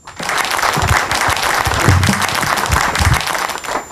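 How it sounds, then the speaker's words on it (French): A crowd at a book launch applauds a priest and editor taking the floor, loud, close and sustained clapping with scattered individual claps standing out throughout. "Sous vos applaudissements."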